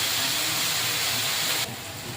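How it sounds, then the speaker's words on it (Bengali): Cabbage stir-fried in a pan with salt and turmeric: a steady, close sizzling hiss that drops in level near the end. "পরিমাণ মতো লবণ আর দেড় হলুদ দিয়ে নাড়াচাড়া করে ভালো করে কষিয়ে নিই"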